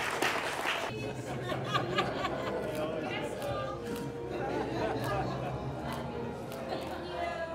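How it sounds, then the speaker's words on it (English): An audience at a film press junket Q&A applauds with scattered, moderate clapping, mixed with chatter and some chuckling from people nearby. "Let's have a round of applause."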